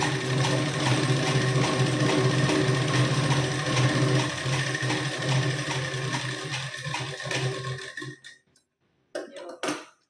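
A sewing machine runs continuously while double-stitching a blouse seam, a dense close whir for about eight seconds before it stops, followed by a brief final burst.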